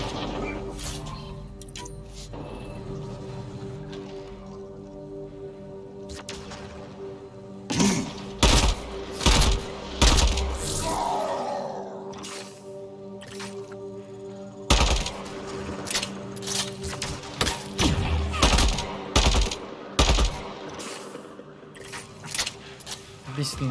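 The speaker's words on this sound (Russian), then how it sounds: "Ну что за скотина стреляет там?" An automatic rifle fires in Mass Effect Andromeda, sharp rapid bursts coming in repeated clusters after a quieter opening, over a steady hum of game sound.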